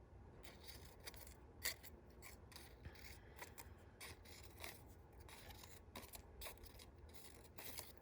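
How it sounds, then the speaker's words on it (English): Quiet, steady rasping snips repeat in close succession, a fine scissor blade working through paper with small clicks. "So I'm using a precision scissors."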